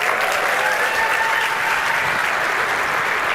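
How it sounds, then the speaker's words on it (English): Dense, sustained audience applause fills a room, steady and loud throughout with a faint whoop or cheer briefly rising within it. "Let's give them a round of applause."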